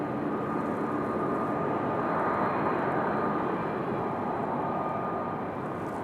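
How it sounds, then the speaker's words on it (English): A Boeing 737-700 at Raleigh-Durham International Airport gives a steady, loud, broadband engine roar that holds for the whole stretch without a break, with no talking over it. "This one a 737-700."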